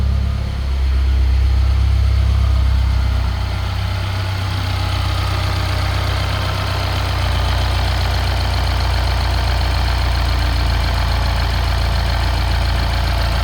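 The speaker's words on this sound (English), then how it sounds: "Let it warm up for a second here and give her some revs." A 2013 Mini Cooper JCW R58 with about 140,000 miles idles steadily while warming up, its low engine hum loud and continuous, with a mild swell early on but no clear sharp revs.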